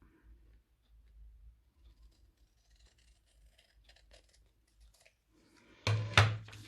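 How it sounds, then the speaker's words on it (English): Scissors cutting paper along a score mark while making a mini book: faint, soft snipping and rustling up close, ending in a louder crisp cut and paper crinkle. "And just cut down that score mark."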